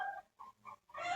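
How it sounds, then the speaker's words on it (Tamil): A chicken clucks in short bursts, three or four close, fairly loud calls separated by brief pauses, with no talking. "கோழி"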